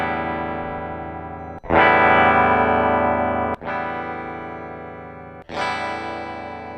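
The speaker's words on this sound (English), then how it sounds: "Simple test where I strum each guitar and see how long it rings." An electric guitar chord is strummed three times, each one ringing out long and sustained with a driven, effected tone.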